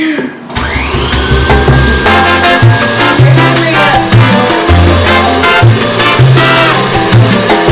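An electric stand mixer whirs steadily while beating vanilla cupcake batter, a loud continuous motor drone with rhythmic low pulses throughout.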